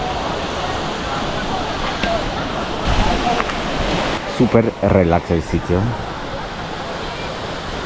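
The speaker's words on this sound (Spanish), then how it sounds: "Aquí está la famosa cascada." A famous waterfall pours steadily as broadband rushing water while people bathe beneath it, with voices talking over the roar midway.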